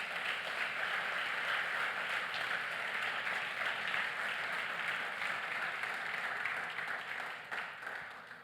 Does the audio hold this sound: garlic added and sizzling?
no